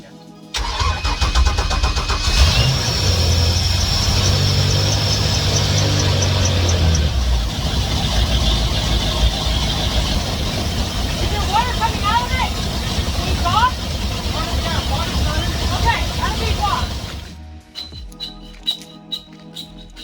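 A Baja boat's engine cranks briefly, catches and settles into a rough, rumbling idle nearby, with people talking over it; the engine cuts off near the end.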